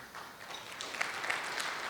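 A banquet audience claps together, a dense spread of hand claps that holds steady for a couple of seconds at moderate loudness, with no voices over it.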